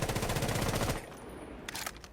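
Automatic rifle fire in Rainbow Six Siege, a rapid, loud burst of rounds that stops after about a second, followed by a quieter pair of shots.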